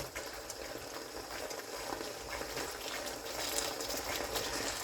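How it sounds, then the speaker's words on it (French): Tomato sauce with merguez simmering in a pot, a steady broadband bubbling and sizzling hiss that holds at a fairly even level throughout, with no voices over it. "J'ai laissé la tomate mijoter à peine 2 minutes"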